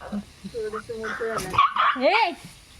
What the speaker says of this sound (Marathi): कुत्र्यांना वास लागलाय ते इथे येऊन बसलेत